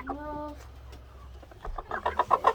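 A flock of backyard roosters and hens at a coop gives a drawn-out tonal call at first, then a run of rising, choppy clucks closer by toward the end.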